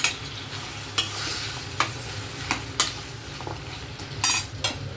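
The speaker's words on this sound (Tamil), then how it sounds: "நல்லா எல்லாம் சேர்ந்து நல்லா வதங்கணும்." Onion, tomato, ginger and garlic sautéing in a pan for paneer butter masala, a low steady sizzle broken by several sharp metal spoon scrapes and clinks against the pan, close up with no talking.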